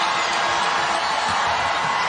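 Women's college basketball crowd at the Colorado vs USC Pac-12 game cheering for Jaylyn Sherrod, a broad, sustained roar of the arena with scattered whoops mixed into the continuous noise.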